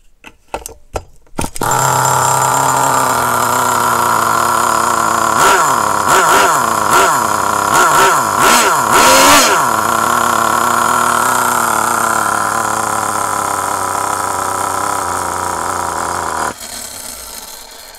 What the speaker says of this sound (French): le moteur est froid donc c'est pas transcendant, mais au moins qu'il tienne le ralenti.